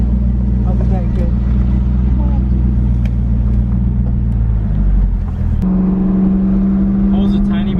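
A lowered Corvette pulling away for a test drive after a DIY alignment, its engine a loud, close, continuous low rumble that shifts pitch partway through as it moves off, with someone talking over it.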